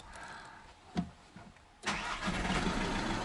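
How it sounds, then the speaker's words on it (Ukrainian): A Volkswagen 1.6 TDI CAYC diesel engine with a faulty injector is cranked with a brief whir, then catches and settles into a steady, rough idle, heard nearby. "Заводимо авто"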